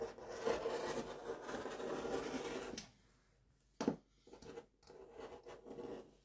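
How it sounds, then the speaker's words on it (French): Fabric being cut for a sewing project gives a close, rasping scissor sound for a few seconds. It breaks off, then returns as a short snip and a few softer cutting strokes. No one talks. "Et je vais couper la deuxième bande"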